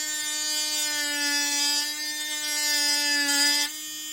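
Hanboost S2 rotary tool spinning at high speed while grinding down a fingernail: a steady, close, high-pitched whine that holds its pitch for several seconds, then drops slightly in level near the end.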